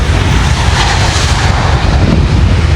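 An airplane prepares to take off at an airport in Koh Samui, a loud, continuous broadband engine roar that stays steady throughout, with no talk over it.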